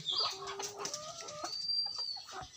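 Hens on a small egg-laying farm cluck and chatter in short, overlapping calls, fairly faint and close, with a few higher squawks mixed in.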